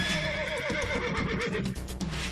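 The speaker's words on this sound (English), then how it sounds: "there are the horses" Horses standing beside a chariot neigh and whinny loudly and close, the shrill calls rising and falling over a busy background with some hoof movement.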